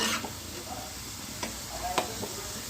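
Shredded potato lachha fries in hot oil, a soft, even sizzle throughout with a few light clicks of a spoon or strainer against the pan.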